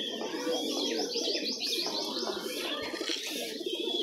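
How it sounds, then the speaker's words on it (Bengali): Giribaz pigeons coo continuously in a loft holding about a hundred birds, with overlapping soft coos and chirps forming a steady, fairly close chorus. "ভাইয়ের বাসাতে প্রায় 100-র কাছাকাছি কবুতর আছে"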